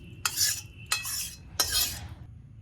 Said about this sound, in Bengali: জিরেগুলো একটু নেড়ে নিলাম যাতে সহজে পড়ে যায়